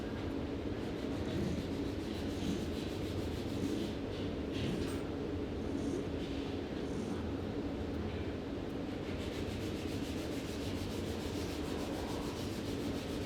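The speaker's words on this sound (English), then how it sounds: "I'm using a fairly rough file, and what that'll do is it'll remove a lot of wax in one go." A fairly rough file scrapes steadily across a carving-wax ring, giving a continuous close, even rasping with no pauses and no voices.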